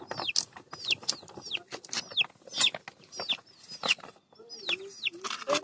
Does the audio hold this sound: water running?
no